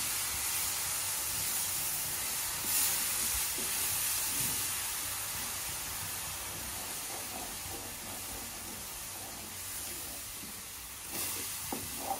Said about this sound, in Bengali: এখন অ্যাড করে দিচ্ছি দুধ।